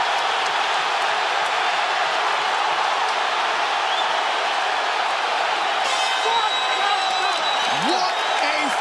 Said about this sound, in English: They are standing and cheering at Barclays.